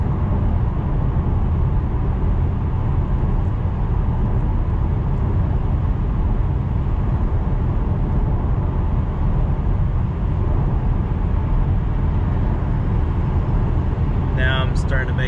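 A 2019 Subaru WRX STI coasting downhill on an open road, heard as a steady loud broadband road and engine rumble from inside the car, continuous throughout with a brief click near the end.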